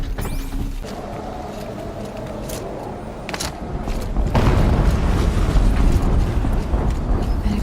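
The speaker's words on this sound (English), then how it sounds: "An explosion." A deep, booming in-game explosion from Horizon Zero Dawn swells midway and holds as a loud, sustained rumble over the low background, with no talk.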